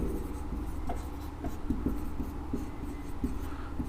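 Marker or chalk writing on a board during a lesson on resistors, a series of soft taps and short strokes at an irregular rhythm, close and quiet over a steady room hum.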